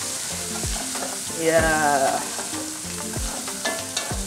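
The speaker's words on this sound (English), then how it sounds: "I'm going to fry this for another few minutes so all the spices just release together." Spices for Kenyan pilau sizzle and fry in a pan, with a utensil stirring and scraping in a repeated clacking rhythm. The sound is close and moderately loud, with a brief spoken word.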